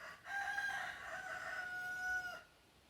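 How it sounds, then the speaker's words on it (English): A young rooster crows once in a long, strained, drawn-out call, fairly close and clear on a quiet farm, cutting off sharply at the end. "So, baby boy rooster agrees."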